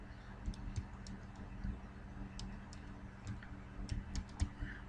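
Typing a command on a computer keyboard: scattered light key clicks in short bursts, fairly close, over a steady low hum with no talking.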